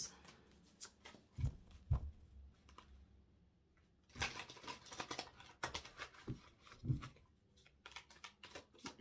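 A tarot card deck being shuffled in a spread reading, giving soft riffling and snapping bursts in a few clustered spells with quiet gaps between, close and moderately loud, no voices.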